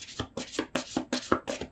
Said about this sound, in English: Shuffle's done.